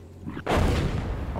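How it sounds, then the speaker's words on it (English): Artillery fire in the PC tank game Gunner HEAT, a heavy boom that bursts in after a quiet lead-in and rolls on as a dense, sustained rumble close behind. "Looks like artillery's just behind us."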